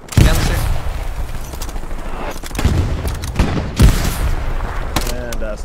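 Rapid gunfire from enemies being shot in a mobile war video game, with repeated sharp bursts and a few heavier booming shots spread across the stretch, loud and close, with a voice speaking now and then.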